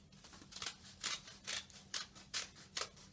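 Scissors snip through paper while paper flowers are cut out by hand for a floral backdrop wall, a steady run of about eight crisp cuts close by, each a short rasping slice with a low hum underneath.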